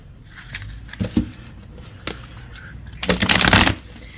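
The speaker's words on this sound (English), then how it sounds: "let's give it a good shuffle." Tarot cards being shuffled in a few quick riffling bursts, close up, with a longer, louder riffle near the end; no talking.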